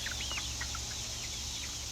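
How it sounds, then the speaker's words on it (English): Young chickens, still small, give faint, scattered chirps and soft clucks over a low, steady background hum, with no voices. "That one must be a rooster."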